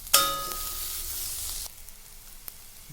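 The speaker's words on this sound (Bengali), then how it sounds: "নুন হলুদ দিয়ে দিয়েছি, এখন একটু ভেজে নেব।" Soybean chunks fry with salt and turmeric in a pan, starting with a sharp clang and a loud burst of sizzling that gradually fades to a softer, steady hiss with a light tap later.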